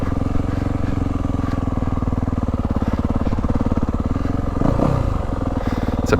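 Dirt bike engine, a 2023 Yamaha YZ450 Monster Edition or 2023 KTM 350 SX-F motocross bike, running loud and close with a steady barky pulse and a brief rev swell near the end.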